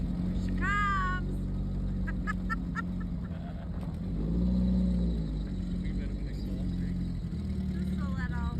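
An off-road vehicle engine drones steadily with a low muffler rumble as it climbs a hill, rising to a louder revving swell midway, while a rooster crows and people talk nearby.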